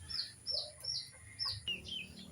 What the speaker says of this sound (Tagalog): kulit talaga yung mga manok ko na yan